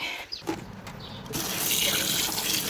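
Tap water runs into a sink while yanang leaves and chaya shoots are washed, starting with light splashes and handling, then swelling into a steady, fuller gush of flowing water.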